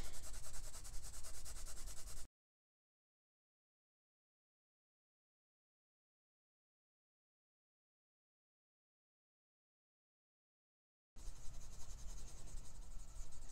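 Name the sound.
Prismacolor colored pencil rubbing on paper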